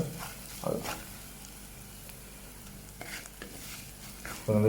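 A spoon stirs chili powder and spices into a curry in a clay pot, giving faint, sporadic scraping and soft stirring sounds over a low background hum.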